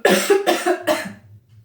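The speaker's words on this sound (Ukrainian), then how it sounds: "щось я починаю трішки кашляти" Three harsh coughs in quick succession, close and loud, each a short rough burst, trailing off into quiet.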